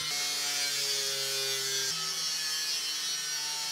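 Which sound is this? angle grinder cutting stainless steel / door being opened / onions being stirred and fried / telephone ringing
angle grinder cutting stainless steel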